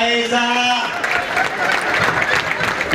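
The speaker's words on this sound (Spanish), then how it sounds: "¡Aplausos para esa!" A comedy show crowd breaks into applause after a joke, a dense wash of clapping rising after a brief spoken line and continuing steadily for a couple of seconds.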